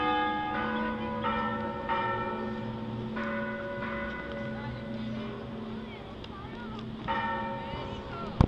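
Church bells ringing in Córdoba, Argentina, a series of moderately distant tolled strikes over city street noise, with someone talking over them.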